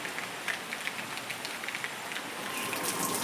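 Steady rain falling and pattering on a surface nearby, a continuous soft hiss with scattered drop taps.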